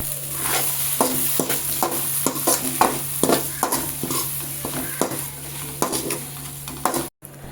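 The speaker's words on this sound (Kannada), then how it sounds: "ಒಂದು 2ರಿಂದ 3 ನಿಮಿಷ ಅದು ಫ್ರೈ ಮಾಡಿದರೆ ಆಯಿತು ಗೈಸ್" Goat head curry frying with coriander leaves in a pan, a loud continuous sizzle broken by regular scraping strokes of a spoon against the metal, roughly one every half second, alone without talk.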